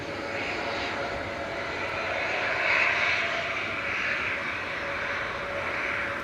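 A Jet2 airliner landing at Manchester Airport, its engines giving a steady, loud broadband roar that swells slightly mid-way and holds throughout, with no talking.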